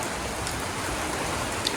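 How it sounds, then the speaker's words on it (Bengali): Rain pouring steadily in a village during a storm, a dense, even hiss of drops on surfaces with no breaks, fairly loud and close. "আর নামছে বৃষ্টি।"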